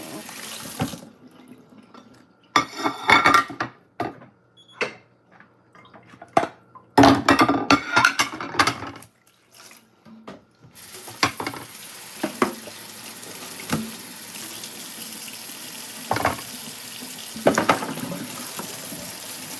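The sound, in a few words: washing plates in a sink with running water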